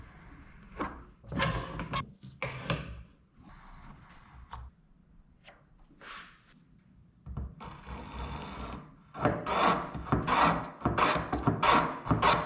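Hand rasping and scraping of wood while shaping a wooden mallet, with irregular strokes that grow louder and more rhythmic toward the end, close up with no talk.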